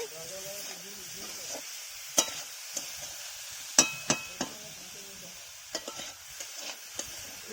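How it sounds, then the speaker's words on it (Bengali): Grated coconut chhai, a sweet filling for pitha, being stirred and cooked in a pan: scattered scraping clinks of a spatula against metal over a low steady cooking hiss, close by, with no clear talk. "এই যে নারকেল ছাই হচ্ছে"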